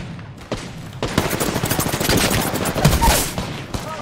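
Sustained automatic gunfire in the video game Apex Legends, a loud, dense stream of rapid shots starting after a brief lead-in and continuing almost without a break, close and dominant.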